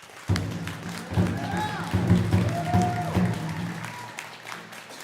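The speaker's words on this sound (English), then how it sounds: "one more round of applause for our graduates." Applause for graduates at a Native graduation honoring ceremony, a crowd clapping steadily for several seconds under a voice speaking over it.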